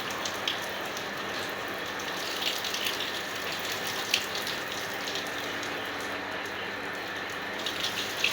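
Water splashed from below onto a hot village house roof in summer heat, a steady loud hissing spray and patter of drops spreading evenly across the surface, continuous and close.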